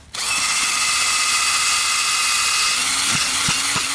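A power drill whirs continuously at high speed, loud and close, with a few clunking knocks toward the end as it bores into frozen ground.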